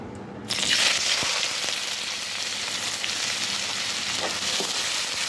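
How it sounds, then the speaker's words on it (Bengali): Chopped onion dropped into hot oil with frying cumin seeds: a sudden loud sizzle that stays as a steady, dense crackle, close up and with no talk. "জিরাটা ভাজা ভাজা হয়ে আসছে, এবার আমি পেঁয়াজ দিয়ে নেব"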